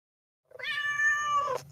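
A domestic cat gives a single drawn-out meow, clear and close, rising then falling in pitch over about a second, alone with no talk.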